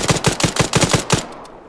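Automatic gunfire in the military video game Arma rattles off in a rapid, loud string of shots that lasts about a second and then fades out, with no voices over it.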